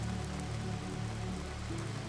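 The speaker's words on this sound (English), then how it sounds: "The rain began just after sunset, gentle at first, then settling into that steady autumn rhythm" Gentle, steady autumn rain falling just after sunset outside a cottage bakery, a soft continuous patter with a low rumbling wash, even and unbroken throughout with no voices.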